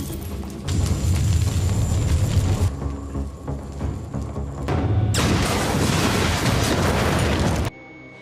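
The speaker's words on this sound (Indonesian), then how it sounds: "Saat Eva akan memberi suntikan kepada Alex, tiba-tiba terjadi ledakan." A sustained roaring blast with rumbling debris, cutting off abruptly, then a second loud, prolonged burst that also stops suddenly.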